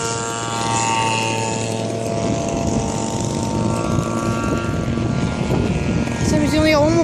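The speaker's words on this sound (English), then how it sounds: "So he's only one more biplane in the sky" A propeller biplane drones steadily overhead at an air show of vintage warbirds, a sustained loud engine hum with a rising whine near the end, while spectators talk nearby.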